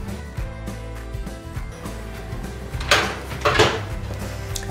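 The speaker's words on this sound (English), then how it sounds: "Then we just pop into the machine, turn on." A Philips HD9643 air fryer is loaded and started: the basket slides in with two scraping clunks near the end, following quieter handling clicks over a low background hum.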